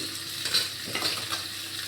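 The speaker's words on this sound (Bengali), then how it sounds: "কাতলা মাছটা ভাজা বসিয়ে দিয়েছি" Katla fish frying in a pan, a steady close sizzle and crackle of hot oil with faint scraping movements, no voices over it.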